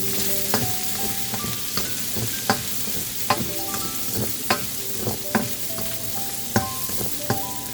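Chicken stir-frying with onion, garlic and green onion, a steady close sizzle under repeated sharp scrapes and taps of a utensil against the pan, with no talking.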